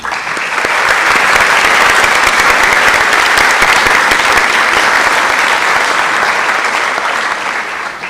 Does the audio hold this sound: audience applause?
yes